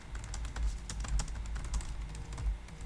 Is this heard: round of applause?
no